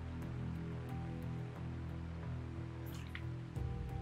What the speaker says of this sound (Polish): spróbujmy wobec tego jeszcze raz nabrać wody